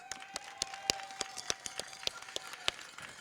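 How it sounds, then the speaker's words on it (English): Sparse applause from a small crowd at an outdoor minor football event, distinct separate claps rising from a faint, distant backdrop with a low steady hum underneath. "A big round of applause."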